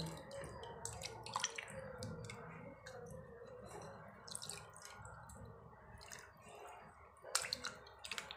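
Dried fish being washed in a bowl of hot water beside a compost bucket, with soft drips and small splashes of water at close range, continuing steadily through the whole stretch.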